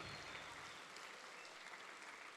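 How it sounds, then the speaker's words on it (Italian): Audience applause in a municipal theatre at a school event, a dense steady wash of many hands clapping without pause, loud and even throughout. "fatele un applauso"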